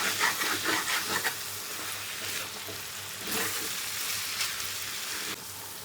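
Loud sizzling and spattering as a splash of water hits pork frying in a hot pan, with sharp crackling bursts at the start, then a steady steamy hiss.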